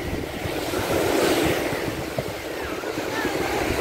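Waves rolling onto İztuzu beach at Dalyan, Turkey, a continuous close surf wash mixed with gusty wind buffeting the microphone, with no clear talk.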